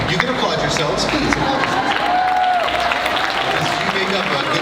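Audience at the KetoCon 2019 opening ceremony applauding together, a dense, steady wash of clapping with some crowd noise that stays loud throughout.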